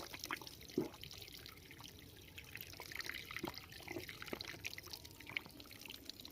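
Mountain spring water trickling and dripping near a dam in a hill village, a soft, steady flow with a few brighter drips, faint and alone with no talk.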